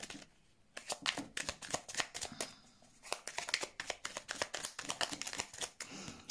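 Oracle cards being shuffled by hand for a card reading, a close, crisp run of rapid riffling slaps in quick irregular bursts, with a short pause midway and no talking.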